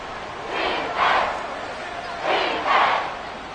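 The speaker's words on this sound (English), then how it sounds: "This crowd turning up the decibel level." An American football stadium crowd roars in two swelling waves during the game, loud and distant-sounding, with a commentator talking.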